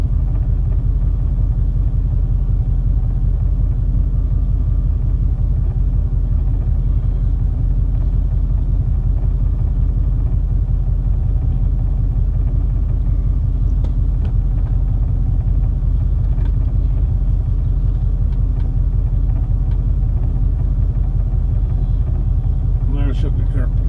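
A truck engine idles with a steady, loud low rumble that continues unbroken throughout, close by.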